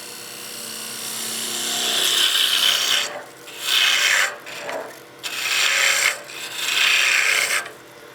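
A woodturning gouge shaves a spinning wooden Christmas gnome hat on a lathe, a close, rasping scrape that swells steadily, then comes in repeated bursts with short pauses.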